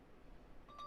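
A phone gives off a short notification chime, faint and thin, a couple of tones near the end after a quiet lead-in.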